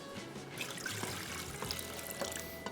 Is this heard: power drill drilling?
no